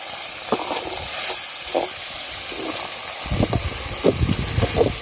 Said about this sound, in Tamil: இப்போது தக்காளி போட்டு வதக்க போகிறோம்.